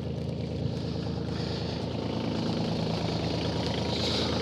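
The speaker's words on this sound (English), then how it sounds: "Hopefully you can hear me over the tractor." A tractor engine used for clearing snow idles at low RPM, a steady deep rumbling chug that stays close and even throughout, with no speech.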